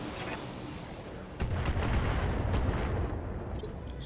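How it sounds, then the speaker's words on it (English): Heavy weapon fire in the BattleTech video game, a loud sustained roar of booming impacts that swells midway and rumbles on without talk. "Firing on target."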